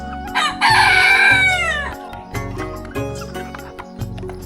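Village rooster, one with a bare, featherless neck, crows once loudly and close by, a long rising then falling call, followed by softer clucks and scratching from chickens nearby.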